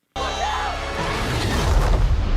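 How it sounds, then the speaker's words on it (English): A loud, deep explosion from the Stranger Things 5 trailer, with a sudden onset and then a sustained rumbling roar that swells toward the end, with no talk over it. "Look at the explosion."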